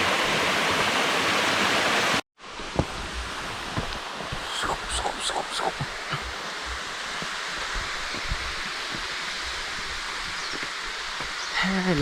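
Loud rushing water of Phon Phop waterfall at Phu Kradueng roars at first, then cuts out and returns as a broad, softer steady wash of falling water with scattered clicks and rustles.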